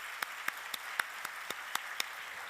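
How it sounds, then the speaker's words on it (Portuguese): Sparse, distinct hand claps at a seminar, a few people clapping in a slow irregular rhythm over a quiet room, each clap sharp and moderately close. "que merece o nosso aplauso também"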